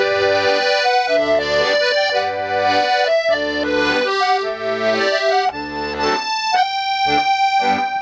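An accordion plays the melody of a song with chords underneath, phrases moving from note to note in a clear, close, continuous performance with no voices.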